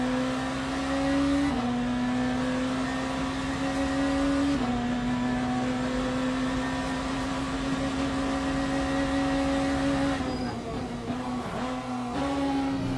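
A race car engine in Le Mans Ultimate droning at high revs, with several quick downshifts that make the pitch drop and jump in steps during engine braking, loud and steady from an onboard position.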